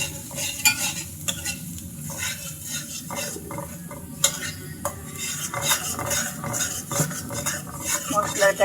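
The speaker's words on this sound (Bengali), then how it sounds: "মশলাটাকে আমি সুন্দর করে কষিয়ে দিয়ে দিচ্ছি" Turmeric and chilli powder are stir-fried in a pan for prawn malai curry, with a spoon scraping and clinking against the metal in irregular strokes over a soft, steady sizzle, close by.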